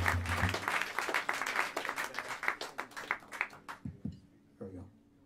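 Small jazz club audience applauding pianist Rasmus Sorensen of the Alexander Claffy Quartet at Smalls, a burst of clapping that thins into scattered claps and fades, with a voice briefly talking near the end.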